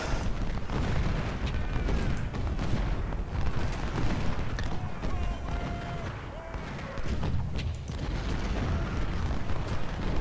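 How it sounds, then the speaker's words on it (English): Artillery fire in the Ultimate General: Civil War video game during the Shiloh battle, a steady dense rumble of distant cannon booms and gunfire running continuously throughout. "Like this artillery's hitting him."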